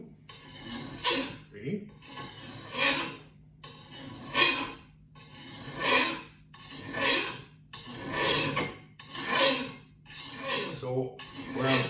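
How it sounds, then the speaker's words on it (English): A file being drawn along an axe blade in repeated rasping strokes, about eight rhythmic scrapes at an even pace, close and fairly quiet, with a few words spoken between strokes. "And you hear that noise? That's the file finding a burr."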